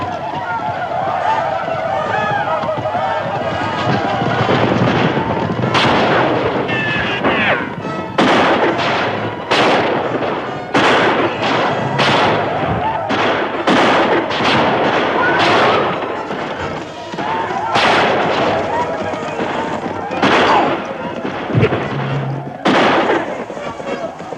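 A 1955 Seminole-uprising western battle scene roars with dense gunfire. Rifle shots and booming blasts crack over each other in a loud, continuous volley, with scattered shouting in the mix.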